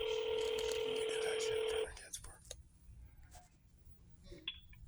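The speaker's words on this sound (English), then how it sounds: "Wait while I transfer your call." Telephone transfer tone on a call to the Washington State Patrol, a steady electronic beep held for nearly two seconds, then faint line noise and clicks.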